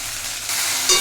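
Chicken coated in Kashmiri chilli masala being stirred in a hot pan, a steady close sizzle with scraping strokes that grows slightly louder toward the end.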